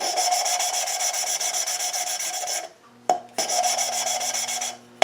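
A close, steady rhythmic grinding rasp as a valve is lapped against its seat in a Land Rover 300Tdi cylinder head, stopping briefly with a couple of clicks before resuming, then fading out.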